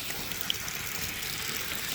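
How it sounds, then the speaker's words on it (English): Dirty water rinsing and running out of air conditioning coils during cleaning, a steady broadband wash of flowing water lasting throughout with no talk. "Look at that water coming out of there."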